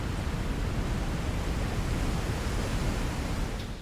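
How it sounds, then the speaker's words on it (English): Lava Falls rapids on the Colorado River in the Grand Canyon give off a steady, broad roar of churning whitewater, constant and unbroken, heard from a distance with no voices. "You can hear lava falls long before you get to it."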